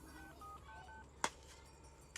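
A telephone number is dialed as a series of short, quiet keypad tones, followed by a sharp click and a faint second click.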